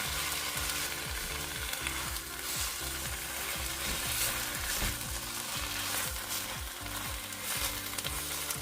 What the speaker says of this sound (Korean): 먹기 좋게 썬 신김치 500g을 넣고 김치에 숨이 죽을 때까지 5분간 중불에서 볶아줍니다